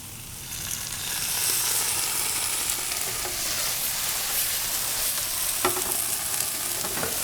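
Sauce poured into a pan of wilted mushrooms sizzles and hisses steadily and loudly, with a crackling fry that holds at an even level from start to finish.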